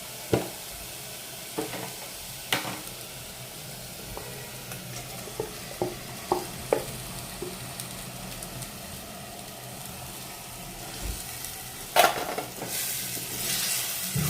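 Mutton fries in a hot clay pot, a low steady sizzle punctuated by a dozen or so distinct scraping and knocking stirs spaced a second or two apart, close and without speech.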